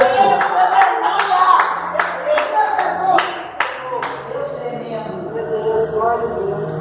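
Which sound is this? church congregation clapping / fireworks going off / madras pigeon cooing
church congregation clapping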